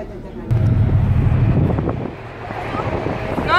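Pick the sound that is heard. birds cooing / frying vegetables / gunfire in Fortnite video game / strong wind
strong wind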